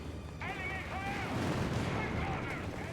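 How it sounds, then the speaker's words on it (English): Mortar firing in Company of Heroes 3, heavy booming blasts rolling into dense battlefield rumble, with a voice talking over the start. "Mortar back in action."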